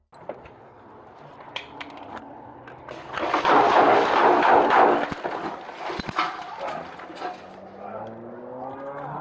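Gunshots in a gas station shootout, a few sharp cracks amid a loud rumbling burst mid-clip, mixed with a talking voice throughout.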